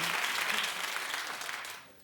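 A studio audience claps in a steady wash of applause that fades out toward the end, with no one speaking over it.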